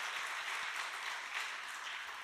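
Church congregation at a Friday revival prayer meeting claps for two high-school students, a steady, moderately distant patter of applause throughout.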